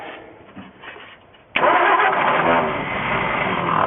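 Ford F350 truck engine starting for the first time in 20 years after fuel is poured into the carburetor: quiet cranking, then a sudden catch at about one and a half seconds into a loud, rough, steady running engine.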